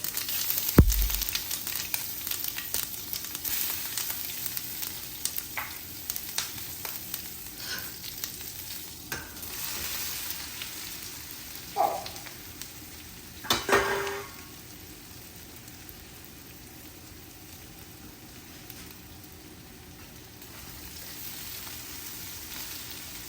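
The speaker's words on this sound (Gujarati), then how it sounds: "અને હવે આપણે મરચાં નાખી દઈશું." Chillies drop into hot oil with sesame seeds for karela muthiya and set off a sharp burst of sizzling and crackling. Stirring clatters over the spitting oil for about fourteen seconds before the sound fades to a faint, quiet hiss.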